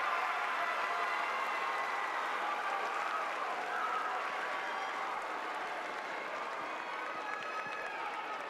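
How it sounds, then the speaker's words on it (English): A large crowd at a high school graduation ceremony claps and cheers for the graduating seniors, a dense, distant, even wash of applause sustained throughout with no speech. "Let's give these seniors one more round of applause."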